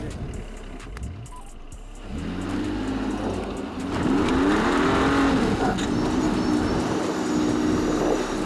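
A Mercedes GLE SUV engine revs and strains as it climbs an obstacle on an off-road trail, rising tones swelling louder toward the end.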